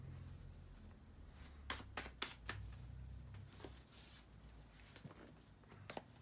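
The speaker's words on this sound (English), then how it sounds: "bear with me a second, guys, to shuffle the tarot cards" Tarot cards being shuffled by hand, a few sharp riffling bursts and soft card slaps near the mic over a low steady hum, fairly quiet with no talking.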